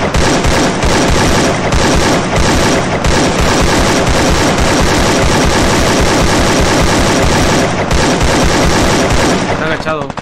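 Rapid gunfire rattles almost nonstop in the Free Fire video game, loud dense bursts of shots filling the whole stretch while players talk over it.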